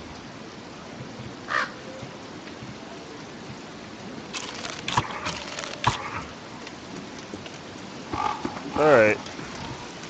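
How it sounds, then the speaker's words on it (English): Steady rain hisses throughout in the game Don't Starve, with a few crow caws and sharp cracks breaking through, and a brief spoken word near the end. "It is storming now."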